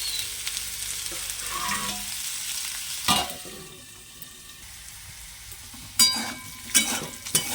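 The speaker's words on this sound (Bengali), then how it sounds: "আলুটা বেশ সুন্দর ভাজা হয়ে গেছে" Potatoes fry in a pan with a steady close sizzle, interrupted by a few sharp clatters and scraping stirs of a utensil, no one speaking.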